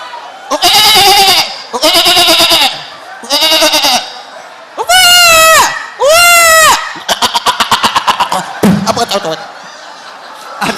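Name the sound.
goat bleating sound effect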